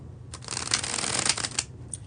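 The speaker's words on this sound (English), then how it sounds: "when I do the bridge shuffle, as I'm about to do for the second and last time" A deck of playing cards is riffled in a bridge shuffle at close range, a soft crackling burst of flicking cards lasting under two seconds with no talk over it.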